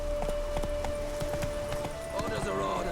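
A horse galloping in The Witcher 3, heard as steady rhythmic clip-clop hoofbeats on the ground mixed with game music and ambience, continuous across the moment.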